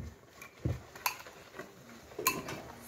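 Banana muffin batter being mixed in a bowl, with a few scattered clinks and taps of utensil against the dish over a quiet, low background, no talking.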